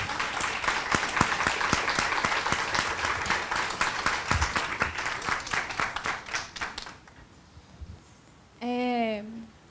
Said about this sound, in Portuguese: eu acho que ela merece aplausos